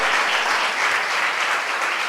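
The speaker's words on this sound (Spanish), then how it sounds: "Denle un aplauso fuerte al Señor." Church congregation at an apostolic and prophetic congress clapping loudly together, a dense sustained burst of applause filling the hall.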